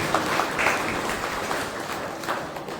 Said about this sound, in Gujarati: જોરદાર આપણે સૌથી તાળીઓથી લગાવીએ છીએ